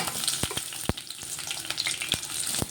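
Chopped green chillies and onion frying in oil for capsicum curry, a soft, steady sizzle close by, with a few sharp spatula knocks scattered through it and no talk.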